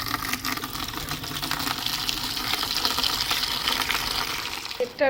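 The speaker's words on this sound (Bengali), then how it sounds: "আর বালতির জলটা ভরে রেখে দিই" Tap water runs into a bucket in a steady, close gushing stream that fills it with a continuous rushing sound. It stops abruptly near the end, with no talk.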